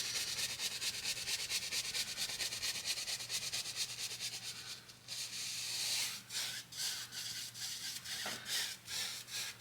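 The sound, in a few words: brush scrubbing liquid white paint on canvas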